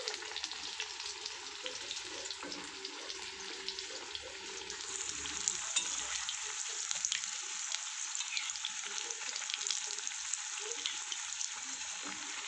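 Mirchi bajji, batter-coated chili fritters, sizzle steadily in hot oil with a constant bright hiss and crackle, fairly quiet and close, with occasional stirring and no talk.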